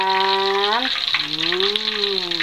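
Stuffed tofu fries in very hot oil with a loud, dense, crackling sizzle close by, while a voice speaks over it.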